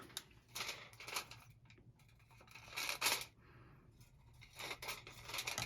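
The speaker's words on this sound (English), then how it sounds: "Take your scissors, slice along your marker lines." Scissors slicing through tinfoil along marked lines, giving crisp crinkling and tearing cuts in several close bursts, with quieter crackling handling between them.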